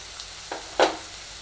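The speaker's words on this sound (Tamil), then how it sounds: "நல்லா அதுவே நல்லா வதங்கி கொஞ்சம் ஆயில் மேலே வர வரைக்கும் நம்ம வெயிட் பண்ணுவோம்" Vegetables frying in oil for rava kichadi, heard as a soft steady sizzle with two brief louder bursts of crackle as the pan is stirred, close and fairly quiet, with no talking.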